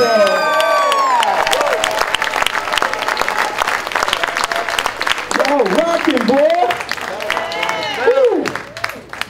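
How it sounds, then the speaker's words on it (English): A crowd claps and cheers loudly and continuously, with scattered whoops and shouted voices rising over the applause. "Y'all get up a big, great big round of applause."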